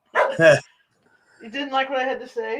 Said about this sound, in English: Stop that. That's my dog.